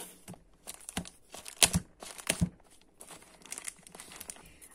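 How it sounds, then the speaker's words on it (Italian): Close crinkling and tearing of a sealed parcel's packaging, with a few sharp rips amid irregular rustling as it is pulled open. "allora per aprire questo pacco vado a prendere eh, questo kit della Legami"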